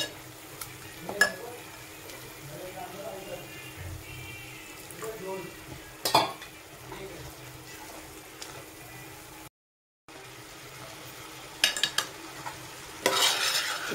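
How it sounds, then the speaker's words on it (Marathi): Spice tempering (phodni) of garam masala and red masala fries in a pan while it is stirred, a quiet sizzle broken by a few scraping knocks and a brief pause, with faint voices in the background. "ही फोडणी देखील आपल्याला चांगली भाजून"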